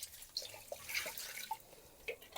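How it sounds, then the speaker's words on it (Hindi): Tap water runs and drips faintly while onions are rinsed, with soft splashes, scattered droplets and a few clinks throughout, no voices. "प्याजों को, इस प्याज के परिवार को थोड़ा सा धोया वोया जाए, साफ सफाई किया जाए।"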